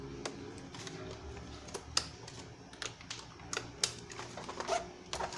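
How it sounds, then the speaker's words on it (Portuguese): A laptop keyboard is unclipped from its latches and lifted out during an SSD replacement, giving sharp irregular plastic clicks and taps against a quiet room hum. "Removemos o teclado."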